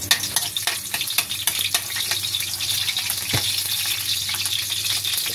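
Garlic sautéing in hot cooking oil: a bright, continuous sizzle with a few sharp stirring clicks early on, close up and steady throughout, no talking.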